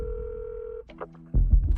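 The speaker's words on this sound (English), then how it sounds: "Tell me what you're feeling as you're dialing that number and you're waiting." Telephone keypad tones sound as a number is dialed: a long steady tone, then a short two-tone beep, followed by louder handling and line noise.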